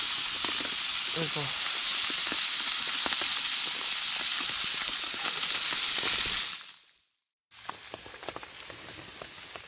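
Small sunfish fry in a pan over an outdoor fire, giving a loud, constant hiss and crackle that cuts out abruptly for a moment before resuming; a voice speaks briefly near the start.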